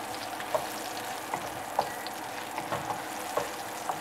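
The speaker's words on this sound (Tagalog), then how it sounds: "At maglalagay po tayo ng bawang." Garlic fries in oil in a pan for Filipino beef steak, giving a steady close crackling sizzle punctuated by light, irregular spatula taps and scrapes.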